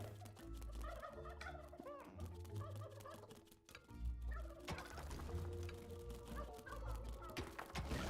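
Chickens in the Dungeons 3 video game give repeated gobbling, clucking fowl calls in quick bursts, layered over tonal game sounds and ambience.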